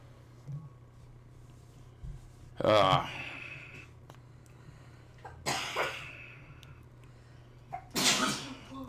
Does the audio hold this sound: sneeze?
yes